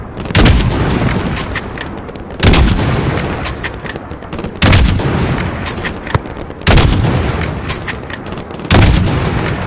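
Heavy bursts of gunfire and booming blasts repeat roughly every two seconds, loud and close, with sharp metallic clanks in between, in a highway battle in Call of Duty: Modern Warfare (2019).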